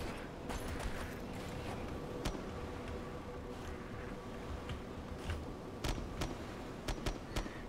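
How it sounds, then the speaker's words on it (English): Distant gunshots in the video game Arma 2 DayZ, several scattered sharp cracks over a steady ambient hiss, faint and far off with irregular spacing. "Something just tells me he's shooting at another area."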